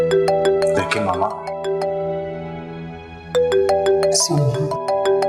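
A phone's melodic electronic ringtone plays a repeating chime pattern twice in a quiet home, with short bursts of talk heard between and over the rings.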